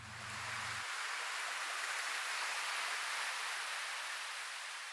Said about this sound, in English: Some waves with some shimmer.